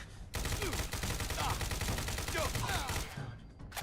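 Fallout 4 video game gunfire: a dense, rapid volley of loud shots crackling close by for about three seconds, then cutting off abruptly.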